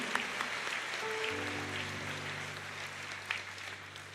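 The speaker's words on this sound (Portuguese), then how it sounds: "Aplauda, igreja." A church congregation claps together, a moderate, fairly distant patter of hands over a sustained musical tone, with a few sharper claps standing out.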